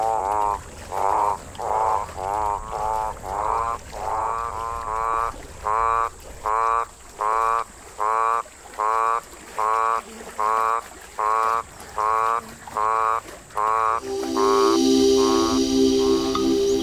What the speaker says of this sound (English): it led to huge writhing balls of toads, each fighting to get a female.